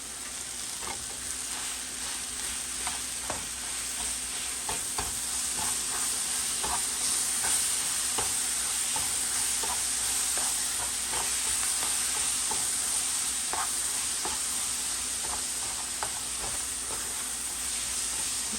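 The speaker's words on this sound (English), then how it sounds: "I'm going to add a stick of butter, you guys. 1 stick of butter right now." A stick of butter melts and sizzles steadily in a skillet for a seafood boil, a continuous close frying hiss broken by faint stirring scrapes and small pops, with no talking.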